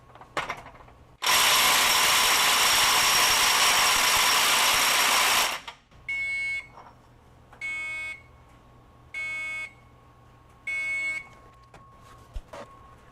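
A Metabo SSW 18 LTX 800 BL cordless mid-torque 1/2-inch impact wrench rated at 800 foot-pounds hammers loudly on a stuck bolt for about four seconds until it breaks free, followed by four short, evenly spaced electronic beeps.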